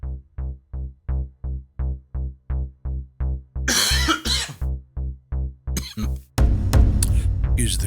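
Cough sound effect triggered on a Genos 2 keyboard over a repeating, evenly pulsed bass pattern; short noisy cough bursts break in near the middle and end, fairly loud.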